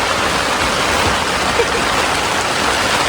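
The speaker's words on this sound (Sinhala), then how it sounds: "ඔයාලා ඇහෙනවද එළිය වහින සද්දේ?" Heavy rain pours steadily outside a tent at a mountain campsite in Sri Lanka, a dense, loud, unbroken hiss with no gaps throughout.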